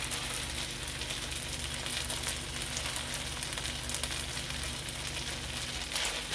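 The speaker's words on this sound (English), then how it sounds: "you can smell that soy. Just let that cook around a little bit." Chicken fried rice with soy sauce sizzling in a pan, a constant crackling fry with a low steady hum beneath it, moderately loud and unbroken, with no voices.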